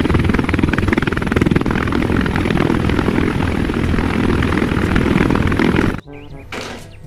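A loud, continuous whirring rotor drone from a toy helicopter fills the clip, then cuts off abruptly near the end, leaving faint sounds.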